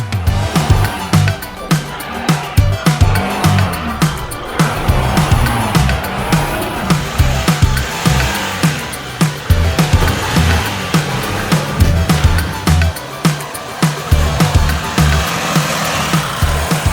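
Amarok off-road vehicle climbing slick, rain-wet rock steps, its engine droning and surging steadily with rough, scrabbling bursts of effort throughout, loud and close.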